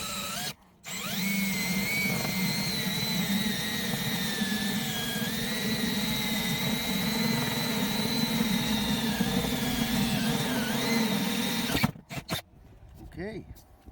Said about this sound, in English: I chose this 5/8 Fortner bit, or 3/4 inch Fortner bit, to drill the hole through the roof to pass the wires through.